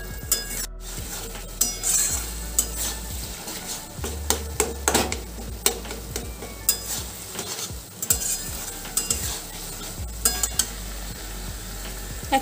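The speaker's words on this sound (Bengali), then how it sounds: "গ্যাসের ফ্লেমটা হাই করে ভালো করে কষিয়ে নেব।" Taro (kochu) greens with boiled chickpeas, split green chillies, salt and turmeric frying on a high flame: a steady sizzle with frequent scraping stirs and metallic clinks of the spoon against the pan, close up with no talking.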